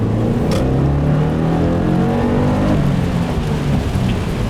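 A 2015 Subaru WRX engine accelerates hard, its loud droning pitch climbing steadily through the gears with heavy road and wind noise, no voices.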